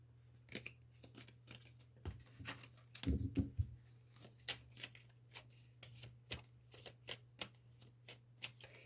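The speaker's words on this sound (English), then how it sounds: "The deck just flipped over. Let me put it all back together." A tarot card deck is gathered up and shuffled, giving close, crisp card snaps and riffles in uneven bursts, including one longer flurry, over a quiet low hum.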